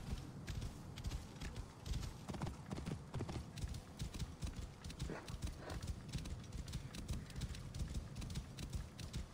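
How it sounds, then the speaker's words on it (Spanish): Horse hooves gallop at a rapid, steady rhythm in the video game Assassin's Creed Origins, close and continuous across the whole stretch, with game ambience underneath and no talking. "¡Ese es mi caballo!"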